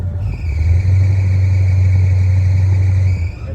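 A 1969 Chevelle with a loose belt runs steadily up close, giving a loud, low, even engine drone with a thin, high whine layered on top. It lasts a few seconds with no voices.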